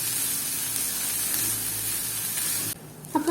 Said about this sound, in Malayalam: നമ്മുടെ തേങ്ങയ്ക്ക് ചെറുതായിട്ടൊന്ന് റോസ്റ്റായി വരുന്നവരെ ഇളക്കി കൊടുക്കാം